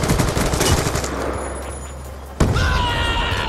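Gunfire rattles through a Call of Duty Black Ops 2 online multiplayer match, with a sharp blast at the midpoint, likely a grenade, followed by more shooting and game effects, all fairly loud with no talking.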